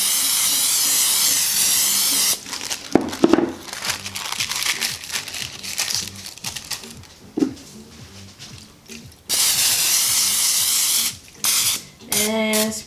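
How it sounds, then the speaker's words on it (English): Non-stick cooking spray hisses onto parchment paper lining a brownie pan in two short close bursts at the start and end, with crinkling and handling noises from the paper in between. "non-stick spray."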